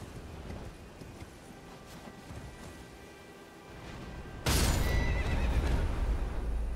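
A horse in the Elden Ring video game gives a sudden loud neigh as it dies from a fall, bursting in after several seconds of quieter ambient game sound and then holding at full volume to the end.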